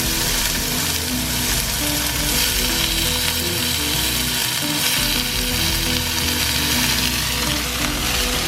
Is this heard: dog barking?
no